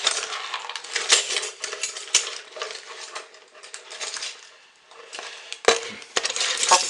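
A spoon stirs scent oil into homemade lard soap in a bowl, giving a steady run of close scraping and light clinking against the container for several seconds, with a brief sharper knock near the end and no talking.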